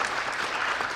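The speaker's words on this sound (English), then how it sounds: "Could you give a little round of applause for the panelists" An audience at a blockchain conference in Seoul applauds a panel, a short continuous burst of clapping heard at moderate distance with no clear voices over it.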